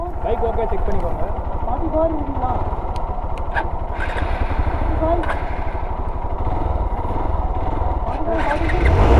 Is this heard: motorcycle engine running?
yes